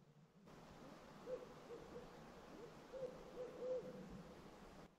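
Owl hooting in a nighttime Ontario forest, faint repeated low hoots in a few short bursts, distant and alone against steady background hiss.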